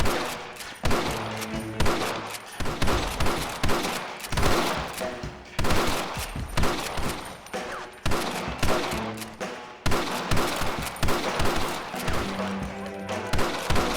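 Rapid bursts of gunfire ring out in a Red Dead Redemption shootout, with repeated loud volleys of shots and sharp cracks stacked tightly together across the whole stretch.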